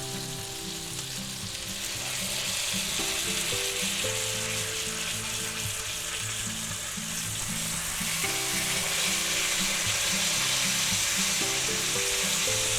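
Thick boneless pork chops frying in a cast iron skillet, a loud continuous close sizzle with crackling, and faint music playing underneath.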